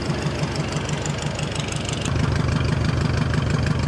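A Ford flathead V8 with an exhaust leak and a single glass pack idles close by, a steady low rumble with a fast even pulse that grows slightly louder halfway through.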